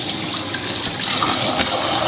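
Tap water runs steadily and close while a toddler washes fruit, a continuous hissing splash that holds even throughout, with no talk over it.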